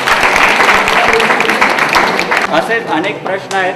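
Audience clapping for a quiz winner at a public event, a burst of applause under someone speaking over a microphone, the clapping fading as his talk continues.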